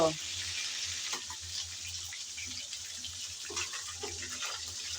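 Pomfret fish pieces fry in hot oil after being flipped, giving a continuous, even sizzle with a few soft clicks and crackles and a faint background voice.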